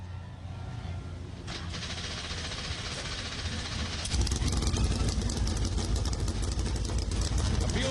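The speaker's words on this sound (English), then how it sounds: "Drivers, start your engines!" A field of NASCAR stock car engines at Darlington fires up, a thin rumble swelling midway into a loud, dense roar of many V8s idling together, close and steady.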